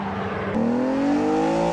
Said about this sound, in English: you're going to hear the exhaust note of that engine, the V12 engine